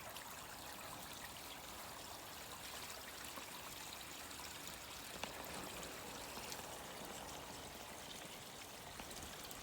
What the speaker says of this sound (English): Diverts the water back into there.